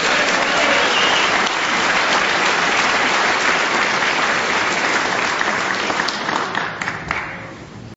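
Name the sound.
snooker crowd applauding as players are introduced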